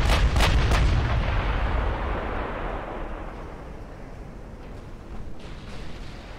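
Naval guns boom in a sea battle in the warship game Ultimate Admiral Dreadnoughts, a cluster of sharp, heavy blasts opening loud and close, followed by a long rumbling decay and faint scattered distant reports.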